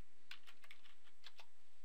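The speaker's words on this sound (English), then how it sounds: "just start typing in Forest River" Quick taps on a computer keyboard, a short burst of distinct clicks in an irregular rhythm, close and fairly crisp against a faint steady hiss.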